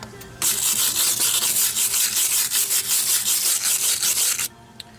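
Stiff wire brush scrubbing the strut mounting surfaces on a 2002 Pontiac Grand Am during rear strut replacement, a loud, steady rasping scrape with quick rhythmic strokes, close up and alone for about four seconds.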